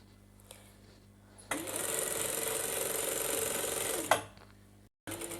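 Sewing machine stitching a trouser seam, a steady fast whirring run of about two and a half seconds that starts and stops abruptly, then a brief restart at the end.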